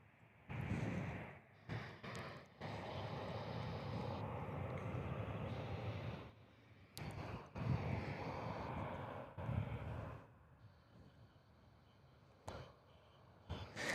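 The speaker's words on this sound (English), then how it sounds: "we've got the 321 CO heading out. They're now lined up, ready to go." A Jetstar Airbus A321 lined up for departure at Perth Airport gives off a distant, fairly faint engine rumble that swells and drops in uneven stretches, broken by brief gaps.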